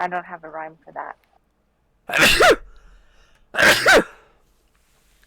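Two loud, sharp sneezes about a second and a half apart, each one alone in a quiet room, after a short stretch of talking.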